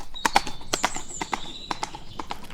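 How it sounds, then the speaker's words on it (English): A horse ridden away in a fairy-tale setting, its hooves clip-clopping in a steady, crisp rhythm of sharp knocks, fairly close and clear, with a faint brief whinny-like tone early on and no speech. "The shepherd jumped upon the horse, and away he rode."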